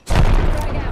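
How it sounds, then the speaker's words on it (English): A thermite grenade goes off in the video game Apex Legends with a loud, close, dense roaring burst that holds steady for about a second. "Thermite grenade!"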